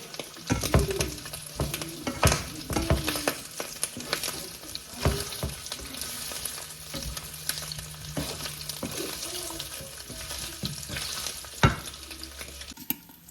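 Oil sizzles and spatters hard while adobo fries in a pan, with steady crackling, sharp pops and occasional stirring scrapes. The noise stays close and loud throughout, and no one speaks.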